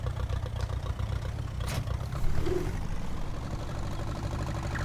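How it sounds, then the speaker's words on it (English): A farm tractor engine idles steadily in a farming game, a low, continuous rumble with a slight mechanical rattle that stays even in level throughout, with no voices. "Oh yeah, this tractor performed well."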